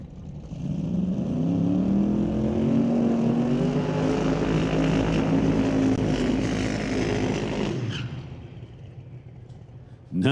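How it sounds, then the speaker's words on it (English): Twin-turbo drag race cars do burnouts at a drag strip, giving a loud, sustained engine roar with a tire-smoke hiss that carries for about eight seconds before fading, with a voice talking over it. "Nice burnouts."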